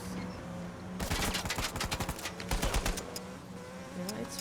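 In Uncharted 4, a rapid burst of gunfire rattles out, a quick string of sharp shots, then a pause and another short volley, loud and close.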